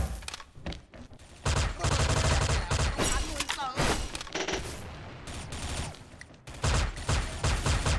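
Gunfire in a shooting video game using an SV-CRB rifle: loud bursts of rapid automatic fire come in several clusters separated by brief gaps, with sharp reports and ringing tails dominating the mix.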